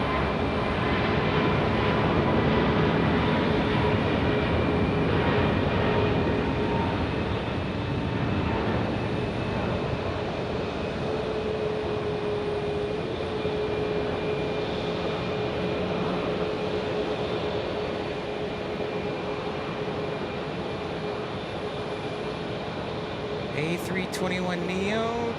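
An Airbus A321neo airliner departs Phoenix Sky Harbor bound for DFW, a continuous loud jet roar with a steady tonal whine lasting throughout, while people talk over it.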